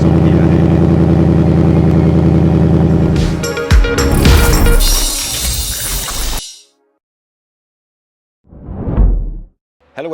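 A 2019 Ford Mustang GT V8 idles loudly, then fires up in a sharp roaring blip that cuts off, followed after a pause by a second short revving burst.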